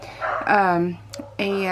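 Pet dogs bark and yip in quick bursts close by, two or three sharp high calls with a whimpering edge indoors.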